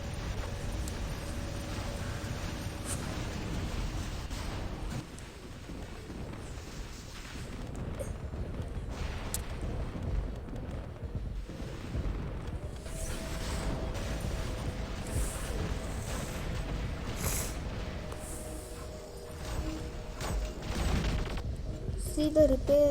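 Sonic weapons firing constantly in a video game during a test of Evora, Veyron and a Titan repair amplifier: a dense, unbroken rumbling barrage with scattered impacts, and a voice talking over it.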